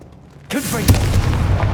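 Hogwarts Legacy's Confringo fire-blast spell, a sudden loud whooshing boom that kicks in after a quiet moment, followed by a sustained crackling rumble with a sharper hit partway through.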